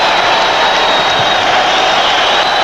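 A basketball arena crowd at a Bulls–Knicks game roars in a steady, dense wall of cheering and whooping after a steal, loud and continuous throughout.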